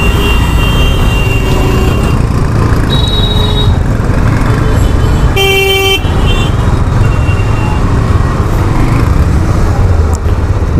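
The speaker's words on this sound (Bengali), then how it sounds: "full on jam road," Jammed city road crowded with e-rickshaws, bikes and people: a constant loud engine and traffic roar, with a single short horn toot rising above it midway and a few fainter beeps scattered around it.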